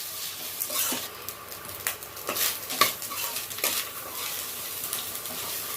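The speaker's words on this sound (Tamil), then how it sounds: "அடுத்தது தேங்காவையும் இதில் சேர்த்து நல்லா எண்ணெயில் நம்ம வறுத்துக்கலாம்" Coconut and roasted gram frying in oil while being stirred, a soft crackling sizzle broken by repeated scraping strokes of a spoon against the pan, close by and without talk.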